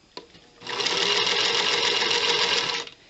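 A sewing machine chain piecing quilt blocks runs in one continuous close burst of fast, even mechanical whirring and needle clatter lasting about two seconds, with a small click before it starts and no talk.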